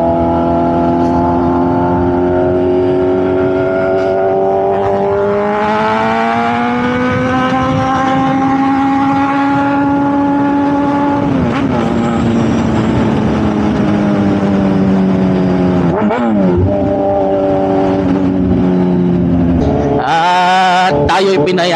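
A motorcycle engine revs loud and close during a ride toward Baguio, its pitch climbing and holding, then dropping and rising again through several throttle changes, ending in a burst of wind noise.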